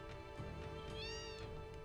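A single drawn-out cat meow rises and falls midway through a busy Final Fantasy VII game scene, set against continuous background music.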